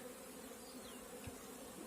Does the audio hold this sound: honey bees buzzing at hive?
yes